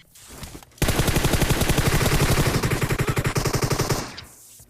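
Rapid automatic gunfire in PUBG Mobile bursts in a long, evenly spaced stream of sharp shots, loud and close, stopping abruptly after about three seconds.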